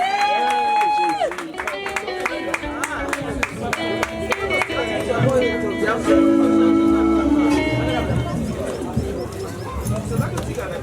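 Wedding guests at a church ceremony in Paris cheer and clap together, a loud, dense mix of applause and raised voices under music, with talk and sustained tones running throughout.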